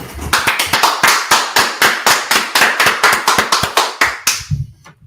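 Audience at an Israelite School of Universal Practical Knowledge gathering claps in unison, loud sharp rhythmic claps at a steady beat for about four seconds, then breaking off into scattered claps and murmur.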